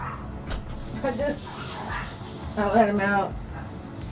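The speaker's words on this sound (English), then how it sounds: "Don't bark at her." A dog gives short yips and whimpering barks indoors, fairly close, while a person talks over it.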